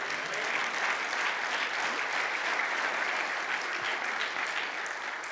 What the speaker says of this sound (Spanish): ¿Puedes darle otro aplauso a él?